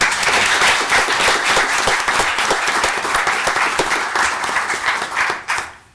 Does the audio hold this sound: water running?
no